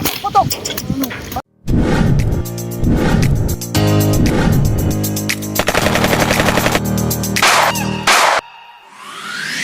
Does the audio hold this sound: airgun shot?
yes